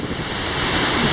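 The Sukhoi waterfall in Crimea gives off a loud, continuous close-up roar of falling water, broad and steady, with some wind buffeting the microphone.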